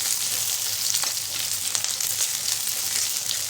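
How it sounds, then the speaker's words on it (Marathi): Capsicum stir-fried over a full flame for crispy hotel-style soya manchurian, giving a loud, steady sizzle and hiss of frying that runs without a break, with no talking. "यामध्ये शिमला मिरची घालायची आपल्याला हे एकदम फुल फ्लेमवरती हलवायचं म्हणजे क्रिस्पी बनलं पाहिजे"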